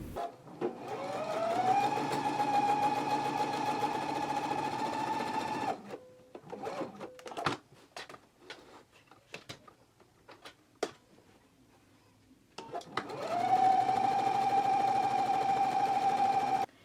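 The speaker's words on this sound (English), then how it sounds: "So let's go ahead and do 2 rows of gathering stitches now." A sewing machine runs two rows of gathering stitches on Simplicity 8985 pants, with a steady whirring run, a pause with clicks and handling noises, then a second sustained run.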